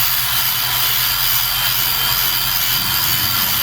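A hard brush with penetrating oil scrubs corrosion out of the spark plug ports on a 2008 Lincoln MKX 3.5L engine, making a loud, close, steady scratchy hiss with no pauses.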